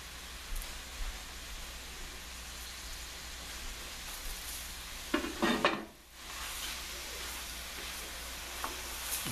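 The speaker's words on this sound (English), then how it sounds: "why am I sauteing this first a little bit?" Arborio rice and vegetables sauteing in a pot for shiitake mushroom and tomato risotto give a steady soft sizzle, with stirring scrapes and a brief louder clatter midway.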